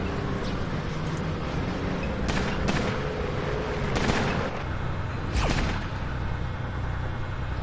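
Sniper rifle shots in the Fallout Tactics video game ring out as several sharp, loud bursts over a constant rumbling background, spaced a second or so apart.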